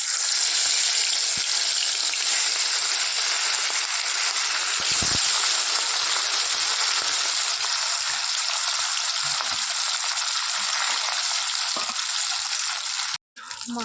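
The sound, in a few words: fish frying in hot oil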